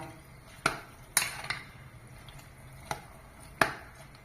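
A few sharp clinks and scrapes of a spoon against a metal pressure cooker as salted vegetable pulao is stirred, sparse and irregular over a quiet background.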